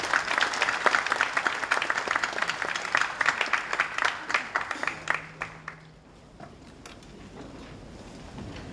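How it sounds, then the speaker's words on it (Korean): An audience at a church leadership lecture event claps to welcome the speaker, a moderate crowd applause that thins into a few scattered claps and fades to quiet after about six seconds. "나오실 때 우리 박수로 맞이하겠습니다"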